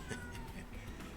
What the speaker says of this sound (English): Apologies if you can hear my cat meowing.